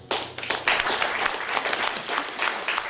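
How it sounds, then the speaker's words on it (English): Audience applause at a live-music food bank Christmas fundraiser concert in a Saskatoon venue, a steady wash of many hands clapping, fairly close and dense, with no speech over it. "So please give yourselves a round of applause."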